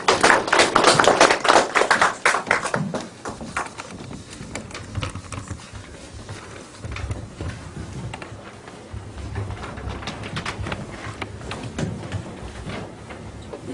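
Audience applause at a literary event in Jongno, welcoming poet Choi In-seok to recite a poem: a loud burst of many hands that thins after a few seconds into scattered, fading claps.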